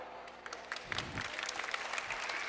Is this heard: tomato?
no